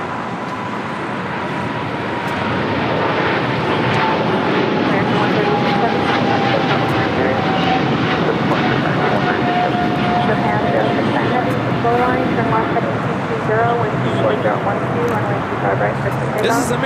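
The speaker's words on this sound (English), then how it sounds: "American Airlines 136 taking off to London Heathrow on a 777-300ER." An American Airlines Boeing 777-300ER jet takes off from LAX for London Heathrow, its engine roar loud and steady throughout with a slowly falling whine on top, under continuous nearby talk and broadband airport noise.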